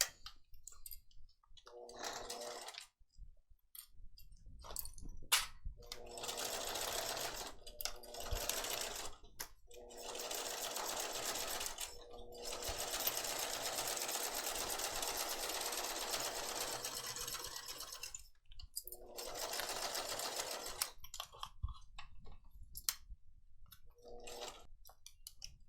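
A sewing machine stitches a vinyl Wendy backpack in several bursts of whirring, clicking stitches separated by short pauses. It sounds moderately faint and close, with no talking.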